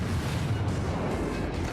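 Destroyer Akizuki's guns firing in World of Warships, a dense rumbling barrage of booms blending into a continuous low roar, loud and close with no talk.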